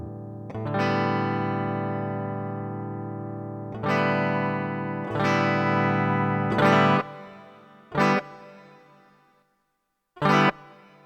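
An electric guitar plays through a JOYO DC-15s practice amplifier set to a clean tone. Several strummed chords ring out and decay, followed by a few short, clipped stabs, with no talking.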